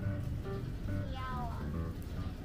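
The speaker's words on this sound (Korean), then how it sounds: "노란 고양이는 수컷 고양이야" A yellow male cat at an outdoor market in Cebu gives a few close, drawn-out meows over a low background of voices and ambient noise.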